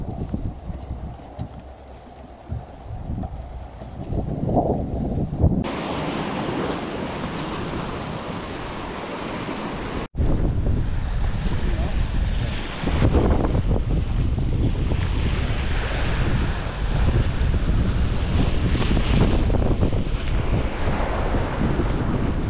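Strong wind buffets the microphone at the seashore during a fishing trip, a loud continuous roar blended with crashing surf, briefly dropping then surging back louder.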